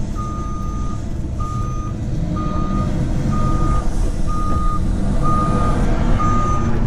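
A forklift reversing close by at a truck loading site, with a steady series of evenly spaced backup beeps over a constant low engine rumble.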